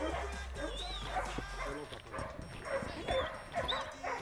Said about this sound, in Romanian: L-a găsit și latră deja.